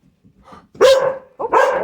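Ranger, a loud dog let outdoors at an off-grid fiber farm, gives two sharp close barks about half a second apart, after some faint whimpering.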